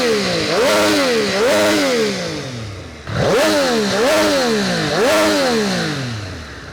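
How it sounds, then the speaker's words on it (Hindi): A Triumph Street Triple R 765 motorcycle with stock exhaust revs loudly several times in a row, each throttle blip rising and falling with a rough, throaty exhaust note, close by. "चलो एक बार इसकी स्टॉक आवाज़ आप लोगों को सुना करके मैं दिखाता हूँ कि कैसी है"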